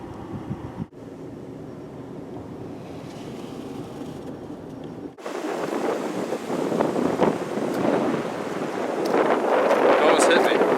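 Strong outdoor wind buffets the microphone in gusty, broadband rushes that grow louder and rougher in the second half, with people talking faintly underneath.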